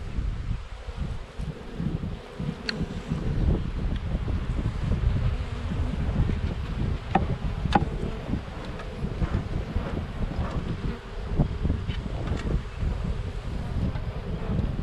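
Honeybees buzz at a swarm trap outdoors, a steady low droning hum that carries throughout, mixed with rumbling wind on the microphone and a few faint higher clicks, with no talking.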